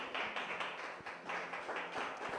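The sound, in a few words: church congregation applauding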